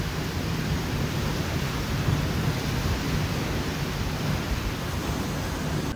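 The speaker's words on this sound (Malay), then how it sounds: "bila gelombang tu dia hempas ke tiang-tiang bawah" Storm-driven waves pound the stilts of an over-water chalet during tropical storm Senyar, a loud, continuous churning roar with deep low rumble and no clear breaks, heard alone without voices.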